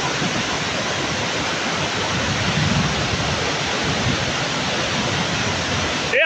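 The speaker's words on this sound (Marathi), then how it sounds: "हा सर्वात मोठा धबधबा आहे" A large waterfall near Khed in Ratnagiri roars as a steady, dense broadband rush of falling water, loud and constant throughout with no voices over it.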